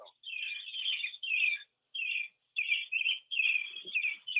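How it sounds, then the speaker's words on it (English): Small birds chirp and tweet in short bright bursts, several calls in quick succession with brief gaps, fairly clear against a quiet background. "We hear the birds."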